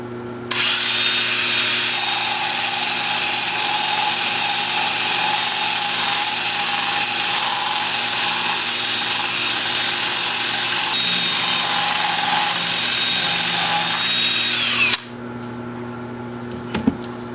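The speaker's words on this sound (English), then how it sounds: "then I'm going to sand the inside with my 2-inch disc sander" A 2-inch power disc sander runs against the inside of a turned wooden piece on a lathe, making a loud, steady, high whine with gritty grinding for about fourteen seconds before it cuts off abruptly.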